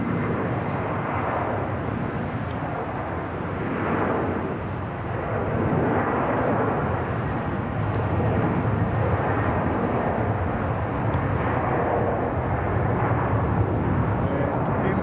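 A China Southern airliner takes off from Melbourne Airport bound for Guangzhou, heard as a sustained, distant, broad jet engine roar that swells and holds, with faint talk and radio chatter in the background.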